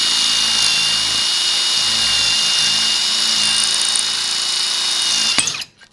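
A hammer drill whines steadily and loudly as it bores a hole for a plastic anchor into a wall, running continuously for several seconds before abruptly stopping.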